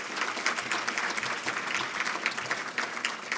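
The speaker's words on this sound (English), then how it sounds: "That's worth a little smattering of applause right there." An audience at a speaking event gives a short burst of steady applause, many hands clapping together at a moderate level for a few seconds.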